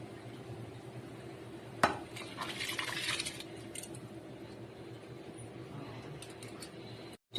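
Soaked biryani rice being gently stirred in a pot of boiling water for Hyderabadi chicken dum biryani, with a bubbling simmer throughout and a brief clatter of utensil against the pot partway through; no talking.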